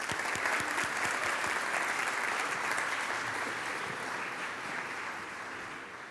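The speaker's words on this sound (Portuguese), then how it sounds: "Uma salva de palmas para o Sr. Diretor." An audience at a university entrepreneurship event applauds a director, with dense continuous clapping from a large crowd that stays steady and slowly eases off.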